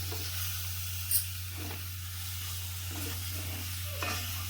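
Coriander powder dry-roasting in a pan for crab gravy gives a steady low hiss, with soft stirring scrapes and a couple of faint clinks. No one speaks.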